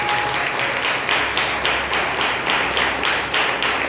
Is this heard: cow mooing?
no